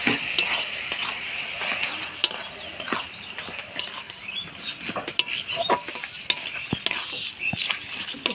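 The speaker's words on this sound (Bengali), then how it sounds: "এবার পিঠালু দিয়ে নাড়াচাড়া করে নামা দিব।" Pea greens mixed with rice-flour paste being stirred in a pan, a steady scraping and sticky patter with faint sizzling, close and continuous, no talk over it.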